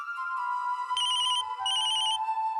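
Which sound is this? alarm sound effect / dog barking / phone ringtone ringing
phone ringtone ringing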